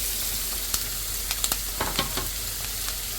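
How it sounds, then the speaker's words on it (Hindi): Vegetables fry in melted butter in a pan with a dense, steady sizzle and crackle, broken by scattered soft clicks as they are stirred, close and with no talking. "बटर के साथ ही मैं इसके अंदर ये सब्ज़ियाँ डाल दूँगी।"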